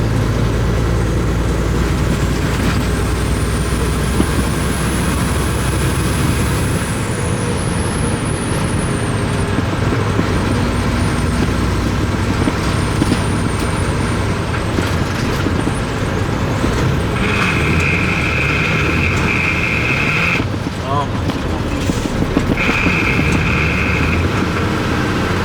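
A Mack truck that is low on power, heard from inside the cab while driving: a steady, loud diesel drone runs throughout with road rumble, and a few brief hisses and rattles break in near the end.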